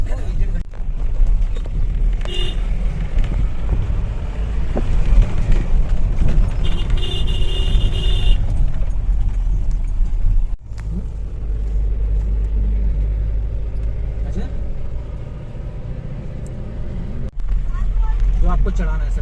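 A car climbing a mountain road near the Neelkanth Mahadev temple outside Rishikesh, a continuous low engine rumble with wind buffeting and some cabin knocks, and people talking over it.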